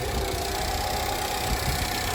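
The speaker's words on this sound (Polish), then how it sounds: "Silnik pochodzi jakieś 10-15 minut" A 1.75 TBi Alfa Romeo Brera engine idles steadily nearby after a timing, clutch, turbo and gasket service, a continuous low rumble with a faint mechanical hum and no talking.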